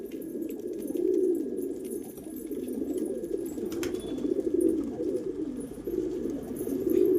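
Domestic pigeons kept at home coo steadily in low, throaty rolling phrases that swell and fade over several seconds, close and fairly loud, with faint flapping and no voices.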